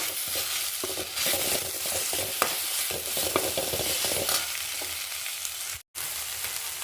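Crushed ginger is tipped into a frying pan for a Kerala-style chickpea curry and stirred, giving a steady loud sizzle with scraping spoon strokes and a brief drop to silence near the end.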